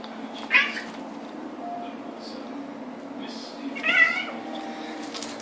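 Two Sphynx cats playing make a few short, quiet meows and chirps, two brief calls separated by a soft, steady background hum.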